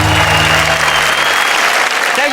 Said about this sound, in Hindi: जोरदार तालियां शरद के लिए